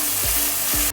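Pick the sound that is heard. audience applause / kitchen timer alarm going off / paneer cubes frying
paneer cubes frying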